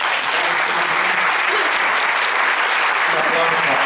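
Enthusiastic applause from a conference audience at a lecture on Church reform, steady dense clapping filling the whole stretch at close range with no voices over it.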